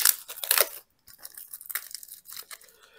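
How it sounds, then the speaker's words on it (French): Plastic shrink-wrap tearing and crinkling off a Le Règne de Cthulhu board game box, a loud burst of ripping up close, a short pause, then softer intermittent crackles and rustles. "ouvrir le paquet. Je vais éviter de tout déchirer. C'est des trucs plastifiés."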